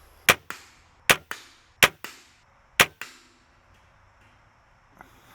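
Crossbow bolts tipped with Afflictor K2 fixed broadheads strike a target one after another in four sharp, loud impacts, each followed by a quick secondary thud, then a faint knock near the end.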